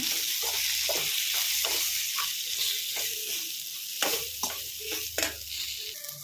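Crushed peanuts stirred into drumsticks frying in a pan for a simple dry fry, with a steady close sizzle and repeated spoon scrapes and clinks.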